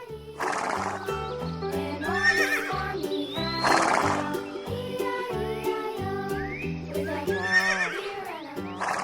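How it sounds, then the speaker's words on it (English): A toy brown horse from a farm playset neighs and whinnies several times over a looping electronic tune with clip-clop beats, loud and close. "a brown horse,"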